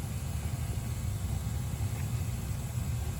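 A 1970s-era boiler running hot gives off a steady low rumbling drone with a faint broadband hiss, even and continuous throughout, with no talking.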